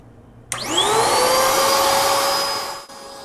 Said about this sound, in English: So first we'll start with the vacuum attachment.